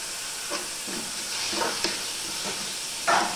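Onions fry with salt and curry leaves in a pan, a steady sizzling hiss broken by scattered scrapes and clinks as they are stirred, with a louder stir at the end.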